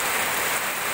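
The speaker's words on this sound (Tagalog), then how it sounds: "Ngayon po ay patuloy yung paglakas ng ulan po dito sa" Heavy typhoon rain during Typhoon Paeng in Calapan City, Oriental Mindoro, a dense continuous hiss of downpour on surfaces, loud and steady across the whole brief stretch with no voices.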